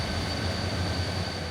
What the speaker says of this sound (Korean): 역으로 들어오는 열차는 무궁화호나 새마을호 뿐이었습니다